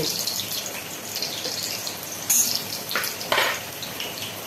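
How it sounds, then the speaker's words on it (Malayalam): Oil frying while biryani is cooked, a steady hiss and sizzle with a few louder bursts as ingredients hit the pan or are stirred. "ഫ്രൈ"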